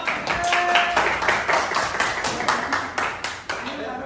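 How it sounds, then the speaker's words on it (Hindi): Hands clapping in a machinist training class, a run of sharp claps repeating steadily at close range with room noise between them. "खड़े हो ताली बजाओ कल ताली बजाओ"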